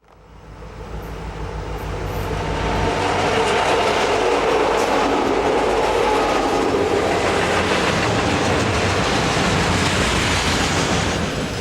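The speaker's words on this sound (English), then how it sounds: "This is a very colorful train with domestic containers from American shipping companies." A long Union Pacific freight train carrying domestic containers rumbles past on double track, building up from quiet to a loud, steady roar with rhythmic clatter of wheels over rail joints.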